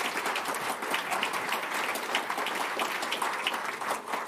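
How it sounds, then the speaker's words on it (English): A conference audience at a corporate financial analyst day applauds the executives on stage, steady dense clapping that holds at an even level for a few seconds. "You can feel free to give them a round of applause."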